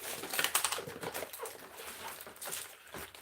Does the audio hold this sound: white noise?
no